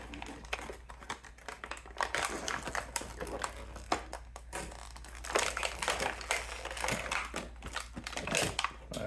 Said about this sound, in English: Just gonna cut the packaging here.